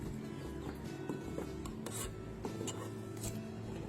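A spoon scrapes and rasps as sweet pongal is stirred in a pot, with a continuous close rubbing texture and a few sharper scrapes, and no voices.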